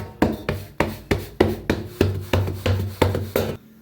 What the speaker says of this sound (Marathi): दोन्ही हाताने भाकरी अशी ठोकायची.